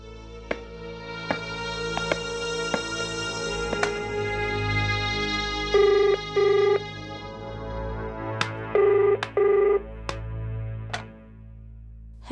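Telephone ringing in a horror drama scene, two paired bursts of ringing spaced a few seconds apart over sustained eerie background music.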